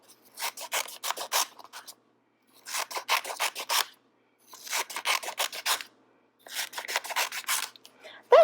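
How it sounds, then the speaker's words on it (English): Scissors cutting thin paper strips for papier-mâché, in four separate bursts of quick crisp snips with short pauses between them, close and clear against silence. "I want to make sure that I cut enough strips that I can cover up my little yogurt cup"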